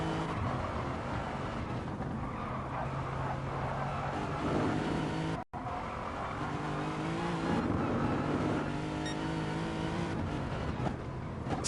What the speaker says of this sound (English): You can really hear the frantic sound of the Toyota FT1 engine